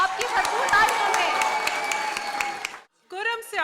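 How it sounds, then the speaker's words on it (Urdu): Audience applause fills a televised award ceremony, dense steady clapping that cuts off abruptly near the end before a brief voice is heard. "آپ سب کی بھرپور تالیوں میں کھل کر داد دیں"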